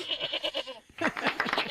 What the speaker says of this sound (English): I love that the little goat was wagging its tail.